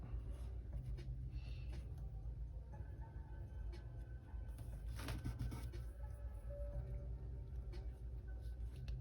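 Pencil sketching a baby tortoise freehand in a sketchbook, soft scratchy strokes and light taps, faint and close, over a low steady background hum.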